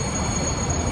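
Steady rumble and rattle inside a train riding into Bangkok, a continuous dense roar of wheels and carriage noise with a faint high whine, no voices.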